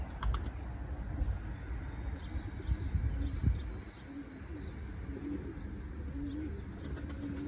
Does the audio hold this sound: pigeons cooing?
yes